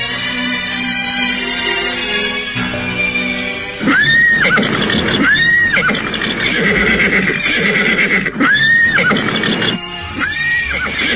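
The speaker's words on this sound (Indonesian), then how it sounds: "Ada apa dengan kuda-kuda itu?" Horses neigh loudly and repeatedly in a radio drama, several shrill whinnies rising and falling close by over a steady background bed, with hooves clip-clopping faintly underneath.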